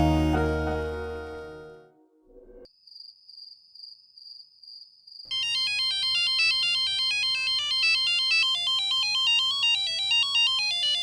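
Telephone ringtone in a TV drama: a thin sustained high beep, then a loud, bright electronic melody of rapidly alternating warbling notes repeating steadily.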